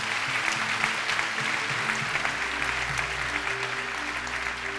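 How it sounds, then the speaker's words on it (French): Congregation at a Christmas Eve service clapping steadily, a dense, even applause that holds for several seconds at moderate distance with no speech over it. "Est-ce qu'on peut acclamer la parole?"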